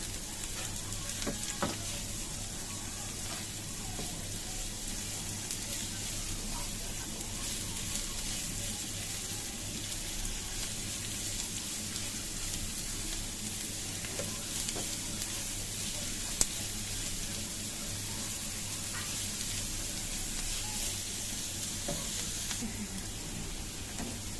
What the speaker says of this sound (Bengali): পেঁয়াজটাকে খুব ভালোভাবে ভেজে নিতে হবে।